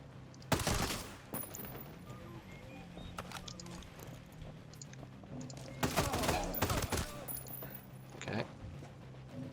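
Sniper and rifle gunfire in the video game Ghost Recon Breakpoint during a close-range assault, sharp separate shots at intervals, a cluster of several near the end, over a quiet game background.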